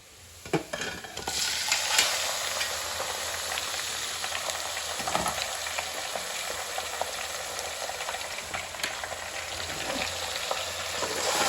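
Washed, drained mutton frying in a hot pan for village-style uppu kari kulambu, with a loud, steady sizzle and occasional stirring scrapes, close and continuous without speech.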